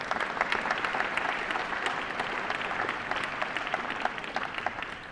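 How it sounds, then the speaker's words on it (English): An audience at a building dedication ceremony applauds steadily, a dense patter of many hands clapping that holds for several seconds and then begins to fade, with no speech. "round of applause for Hastings and Chavetta, please."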